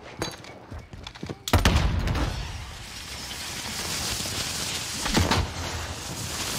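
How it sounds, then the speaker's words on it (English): Gunfire in the Warzone video game, with a few sharp shots early and a louder burst near the middle over a steady noisy game soundscape, followed by another cluster of shots later. "Enemy dropping into the AO. I'm taking fire."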